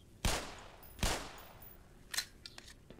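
Handgun fire in the video game Black Mesa: two sharp, loud shots about a second apart, then a fainter crack and small clicks trailing off.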